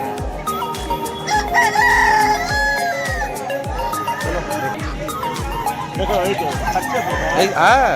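Aseel roosters crow repeatedly at a busy poultry market, their loud calls rising over steady clucking and rhythmic thumping, with voices of people bargaining underneath.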